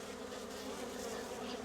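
Honey bees buzz densely around a honeycomb frame lifted from the hive during the honey harvest, a steady close-up drone of many wings without pause.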